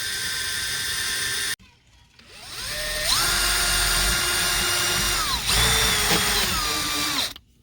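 A power drill with a brand new bit bores a hole through interior trim of a 2013 Ford F150, a loud whining motor that pauses briefly and then rises and dips in pitch as the bit bites under varying pressure.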